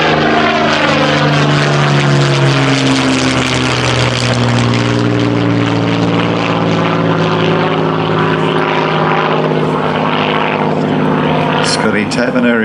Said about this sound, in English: Scotty Taverner in the Spitfire